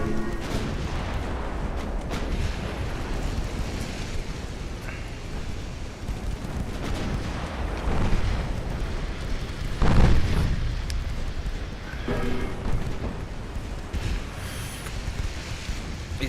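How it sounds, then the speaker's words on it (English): Naval gunfire in Ultimate Admiral Dreadnoughts from small 8-inch guns, heard as repeated booming reports over a constant roar of sea and engine noise, with the heaviest blast near the middle. "Are all these guns firing? They are. Look at that. Look at these little pancake 8-inch guns."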